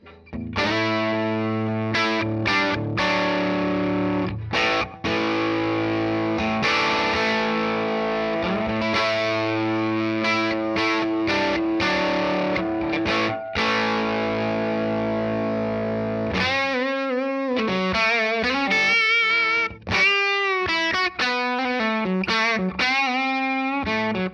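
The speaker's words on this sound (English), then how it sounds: "now for some pushed guitar sounds with this Frank Brothers Arcade Thin Line and Carina killer guitar" An overdriven Frank Brothers Arcade Thin Line electric guitar plays through a Carina Killer amplifier, ringing chords with gritty crunch, then a stretch of choppier, bending notes, loud and continuous.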